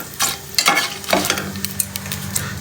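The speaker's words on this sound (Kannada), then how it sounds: "ಇವಾಗ ಇದನ್ನು ಸ್ವಲ್ಪ ಫ್ರೈ ಮಾಡ್ಕೋಬೇಕು" Whole spices frying in oil in a pan for egg biryani, with a steady sizzle broken by several sharp stirring scrapes and clinks, close up, no voices.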